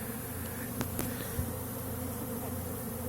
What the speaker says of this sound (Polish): Pierwszy roj. Rój.